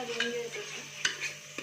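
Spices for chole being stirred in a pan, a short run of soft scraping strokes with a couple of light spoon taps, close and quiet.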